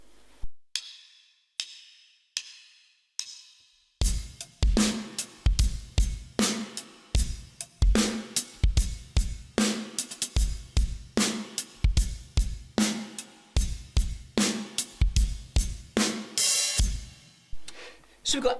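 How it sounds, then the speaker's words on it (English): Drum kit playing a swung hip-hop groove with eighth-note hi-hat and backbeat snare on two and four, a few sparse hits first, then a steady loop of kick, snare and hat. "So we've got 8th notes on the hi-hat, backbeat on the 2 and the 4."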